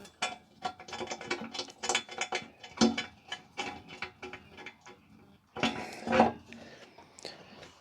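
A ratchet clicks in quick irregular bursts while bolts are tightened on a Big Block Chevy 454 engine build, close and fairly quiet, with short pauses between runs of sharp ticks and no speech.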